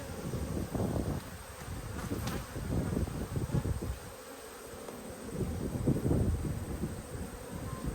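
Dense, steady buzzing of many bees swarming around opened backyard beehives during a hive inspection, close and continuous with gentle swells in intensity, no talking.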